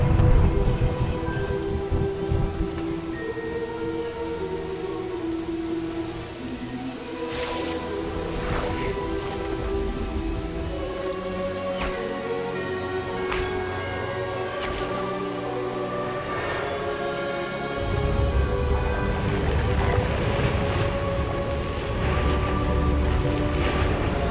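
Rain and thunder in the video game Hogwarts Legacy: a steady wash of rainfall with several sharp thunder cracks through the middle stretch, then heavier rain swelling near the end.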